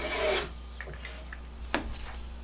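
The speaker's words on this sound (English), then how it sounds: "Here I'm using the block plane skewed about 45 degrees just so I can get a nice curl shaving." A block plane held skewed at about 45 degrees shaves a curled strip off wood in one brief rasping stroke, followed by faint small rubbing and handling noises, close and quiet with no talking.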